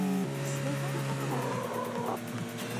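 A car drifts during a drift lesson. A sustained engine drone and a high tire squeal shift in pitch as the car holds the slide, with talk over it.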